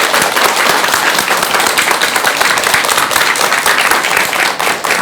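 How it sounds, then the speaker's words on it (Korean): Studio audience applauding a monk's talk on a Korean television talk show, a dense, steady wash of clapping from many hands held at full level throughout without a break. "오늘 귀한 이야기 해주신 우리 스님께 여러분 큰 박수 부탁드립니다"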